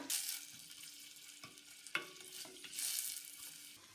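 Sliced onions fry gently in ghee in a pan over low heat for a kunna mutton dish, giving a steady close sizzle with a few louder stirring scrapes and clinks, no talking.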